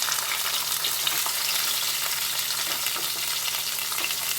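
Onions and three tomatoes frying in a pan for a soya chunk curry, an even, moderately loud crackling sizzle with soft stirring scrapes and no voices.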